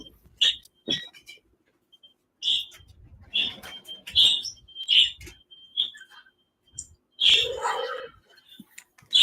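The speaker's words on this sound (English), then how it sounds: "インコうるさいからドア閉めてきます" Pet parakeets chirp noisily in short, sharp bursts scattered irregularly through the stretch, fairly close and indoors, with faint murmuring in the background.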